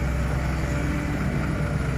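A steady, rumbling Yanmar engine on a Lovol FR80 tractor drones continuously at close range, low and dense with no breaks or talk.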